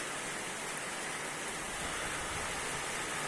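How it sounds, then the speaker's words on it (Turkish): Steady rain pours down around a barn, a dense, even hiss of drops that stays loud and constant throughout, with no voices. "Yağmurun sesi geliyordur size."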